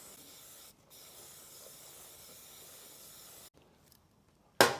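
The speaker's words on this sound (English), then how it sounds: "I get the cleaning spray. I'd like to give it a good soak all over, let the degreaser in the spray do its work" Degreaser cleaning spray hisses in one long continuous burst onto a bicycle chain, steady and close, then cuts off into near quiet before a brief sharp clatter at the end.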